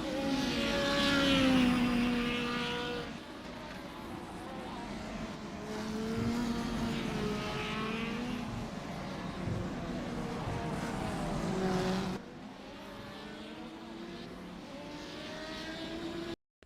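Engines of CART racing cars from 1985 in a racing video game, one spinning out, shifting whining tones rising and falling as revs change, loud and close, with a sudden cut partway through.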